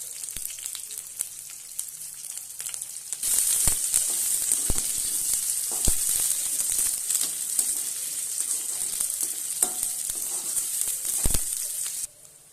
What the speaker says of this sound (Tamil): சின்ன வெங்காயம், பச்சை மிளகா, கருவேப்பிலை சேர்த்திக்கலாம். இதை நல்லா வதக்கிக்கலாம்.